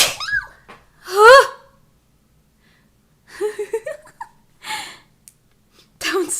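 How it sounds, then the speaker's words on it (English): Several sharp, high-pitched sneezes burst out one after another with quiet pauses between them, close to the microphone. "bless you, bless you, bless you."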